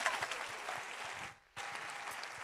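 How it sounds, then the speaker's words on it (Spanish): A church congregation applauds the Lord in dense, steady clapping that fills the room, dropping briefly to near silence midway before resuming just as strongly. "Si usted le va a dar ese aplauso al Señor, hágalo mejor"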